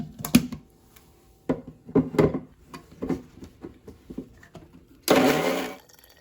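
A kitchen blender whirs in short pulsed bursts while fruit is blended for fresh juice, then runs in one loud sustained grind near the end, close up with no talking.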